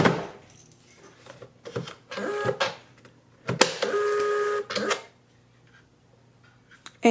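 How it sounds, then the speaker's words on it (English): A shipping label printer at home being loaded with labels and shut: rustling and clattering handling noises, then two sustained mechanical whirring runs of a few seconds each, ending with a sharp close. Nearby and fairly loud, with no talk. "You'll guide the labels through those 2 little black nozzles, and then close your printer."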